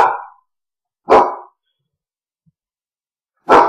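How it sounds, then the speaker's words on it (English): A guard dog barks three times, loud and close, each a single sharp bark separated by about a second of silence. "And there goes the guard dog."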